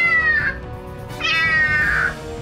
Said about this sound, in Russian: В Гомеле в большой трубе застрял маленький котенок.